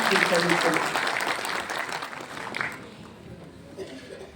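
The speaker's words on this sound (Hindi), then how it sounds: "जोरदार तालियों के साथ" An auditorium audience at a municipal event applauds a speaker's welcome, loud clapping at first with voices mixed in, fading down into quieter room sound after a couple of seconds.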